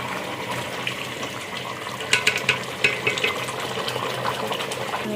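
Water is added to a pot of chicken shorba in a home kitchen. Continuous splashing and sloshing is broken by a few sharper clinks and knocks partway through, and no one speaks.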